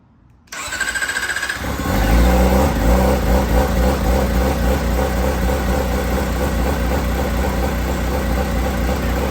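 A tuned Kawasaki Ninja ZX-4RR motorcycle starts after a near-silent moment: a short electric starter whine, then the engine catches and settles into a loud, close, steady idle.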